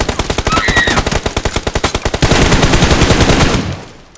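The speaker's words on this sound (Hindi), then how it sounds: "इधर से फायरिंग वायरिंग हो रही है" Rapid automatic gunfire in the mobile battle royale game BGMI, a loud burst of evenly spaced shots followed by a denser, continuous volley that cuts off near the end.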